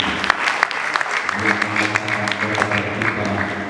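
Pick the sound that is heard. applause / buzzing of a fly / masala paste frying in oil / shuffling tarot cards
applause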